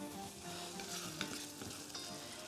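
Tomato soup simmers in a pot while being stirred, with faint, quiet bubbling and sizzling broken by soft scraping strokes of the spoon.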